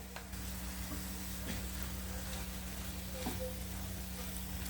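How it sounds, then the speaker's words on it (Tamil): Quiet, steady sizzle of masala sautéing in a pan for stuffed chapati filling, with a constant hum beneath and a few faint stirring taps, no speech. "மசாலா எல்லாம் நல்லா கொஞ்சம் ஒரு ரெண்டு நிமிஷம் வந்து வதங்கட்டும்"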